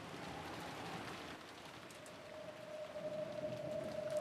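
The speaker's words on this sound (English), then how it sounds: "The rain will get blown in." Steady rain blowing in through an open window, a soft hiss of drops in a Umineko visual novel sound effect, with a faint tonal whistle of wind rising near the end.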